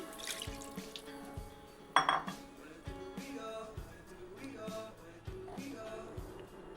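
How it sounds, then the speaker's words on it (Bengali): Water is poured into a pan of cooking raw papaya, with a splash and faint trickling among soft clinks and drips, quiet and close. "একটু জল দিয়ে দিচ্ছি"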